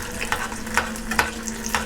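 Kibbeh (kibe) frying in oil heated to 180 degrees gives a steady close sizzle, punctuated by sharp crackling pops and stirring clicks at irregular intervals, with no voices.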